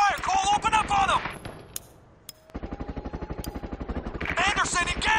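Gunfire erupts during a firefight in the video game Sniper Ghost Warrior 2, with rapid bursts and rattling shots close by under loud shouted voices, broken by a short quieter pause before more fire.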